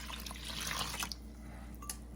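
Lukewarm water poured into a bowl for pumpkin pudding, a close, steady splashing trickle that eases off partway through over low hum.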